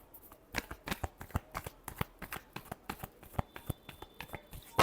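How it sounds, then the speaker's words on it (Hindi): Tarot cards being shuffled by hand up close: a quick, steady run of soft papery slaps and riffles, about four to five per second, faint and without talk. "और लास्ट शफल।"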